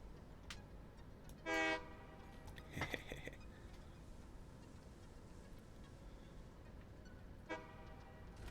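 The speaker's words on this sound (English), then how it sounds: "Oh, sweet, the train's here already." A train horn sounds in a video game as a train arrives, a few short toots spread across a quiet, low background where a voice speaks faintly.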